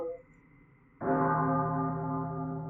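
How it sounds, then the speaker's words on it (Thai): In the video game Children of Silentown, after a quiet lull, a single bell rings out loud and clear, its tone ringing on and slowly fading. "เสียงระฆังครับทุกคน"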